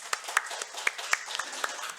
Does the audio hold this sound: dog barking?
no